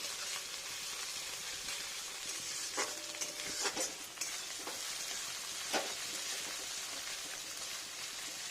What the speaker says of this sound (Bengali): আদা বাটা আদাটা দিয়ে একটু কষিয়ে নেবো ভালো করে লালচে লালচে হবে